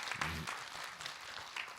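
Applause from a gathered audience at a Buddhist dharma talk as a questioner is welcomed: short, soft crowd clapping heard at a distance, with a brief voice near the start.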